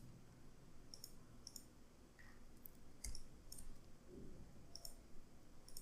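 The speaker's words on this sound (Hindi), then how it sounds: "माउस के राइट बटन को क्लिक करना" A computer mouse button clicks about eight times at irregular intervals, each one a sharp, short, faint tick, while the user works through the Blender edit mode and outliner panel, with a soft background hiss and no talk.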